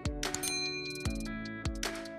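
A notification bell sound effect chimes several times in a row, each clear ringing ding struck sharply and then left to fade. The dings are evenly loud and heard alone.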